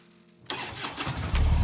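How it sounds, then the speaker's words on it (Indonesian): Motorcycle engines start up and rev, growing louder and steadier as they pull away, close by. "Mereka berangkat dengan motor masing-masing."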